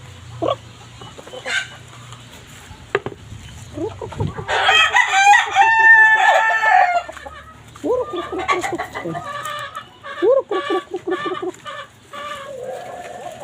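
A rooster crows loudly nearby, followed by repeated clucking and more crowing from fowl, including fighting cocks and turkeys.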